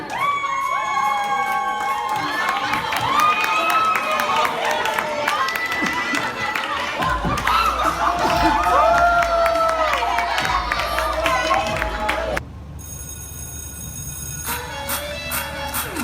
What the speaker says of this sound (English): And the audience will applaud you for everyone that gets up.